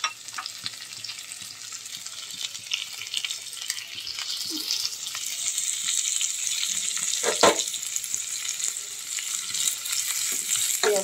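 Chopped garlic cloves and onion fry in a little oil, a quiet sizzle that grows steadily louder, with occasional clinks and scrapes of a utensil.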